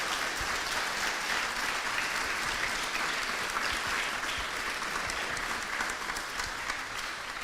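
A steady burst of applause from a crowd, many hands clapping continuously at an even level throughout.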